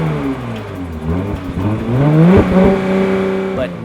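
The exhaust of a 2020 Porsche Macan rises in pitch as the SUV accelerates, a smooth, moderately loud tonal drone that climbs steadily with a shift-like dip midway and no talk over it.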